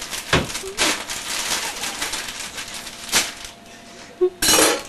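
A stuck kitchen drawer jerks and rattles as someone works it open for a knife, with sharp metallic clinks of cutlery and utensils in a few separate bursts, close and fairly loud.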